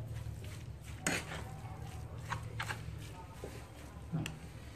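Spoon stirring a herbal medicine mix of leaves moistened with rice wine, giving a few sharp clinks against the bowl over a low steady background hum.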